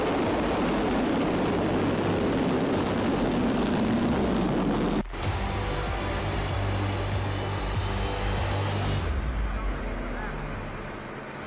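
A steady, loud engine roar from an American command aircraft in flight continues for several seconds with no break. The sound briefly dips and shifts partway through, then continues with a low drone underneath.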